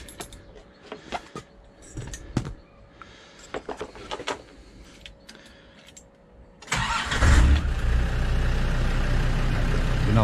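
A Land Rover Defender Td5 diesel, fresh from a clutch and flywheel replacement, sits quiet amid a few close clicks and knocks, then cranks and fires at once into a loud, steady idle that runs to the end.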